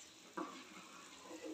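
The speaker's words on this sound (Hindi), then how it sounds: "अब हम इसमें धीरे धीरे करके अपना सूजी डालेंगे। देखिए हम एक हाथ से सूजी डालेंगे धीरे धीरे, और दूसरे हाथ से हम इसको मिक्स करते जाएंगे।" Semolina stirred into boiling water for vegetable upma in a pot: a soft, steady bubbling and sizzling bed with a brief scraping stir, close and fairly quiet, with no talking.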